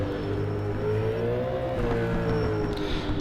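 Nissan V8 Supercar engine droning steadily as it laps the Winton circuit in a racing video game, a continuous loud engine tone rising slightly in pitch, heard alone with no talk.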